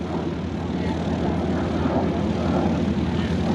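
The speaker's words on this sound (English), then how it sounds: "This was one of the first trainers to be powered by a turbofan." A turbofan-powered jet trainer flies past at an airshow, a steady, loud broadband engine roar that holds through the whole stretch with little change.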